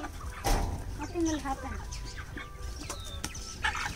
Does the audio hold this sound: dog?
no